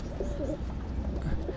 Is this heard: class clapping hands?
no